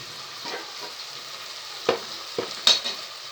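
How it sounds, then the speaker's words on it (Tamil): Tomatoes and potato sautéing in a pan for vegetable biryani, a soft continuous sizzle broken by several distinct stirring scrapes, close and moderately quiet. "இப்போ தக்காளி வதங்க ஆரம்பிச்சிச்சு"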